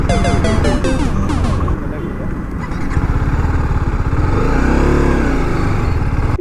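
A TVS Apache RR 310 motorcycle pulls away and rides off, its engine loud and close with rising revs and a steady growl throughout.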